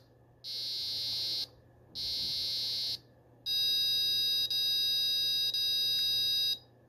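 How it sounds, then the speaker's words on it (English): An electronic alarm beeps in two separate bursts, then sounds a longer wavering siren-like tone before cutting off. "when it indicates that the time is up, with a little siren noise"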